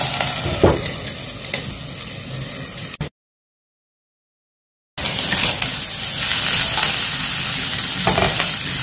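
Batter frying in oil in a pan on a medium flame, a steady loud sizzle with faint stirring scrapes, broken by a two-second silent gap before the frying resumes even louder.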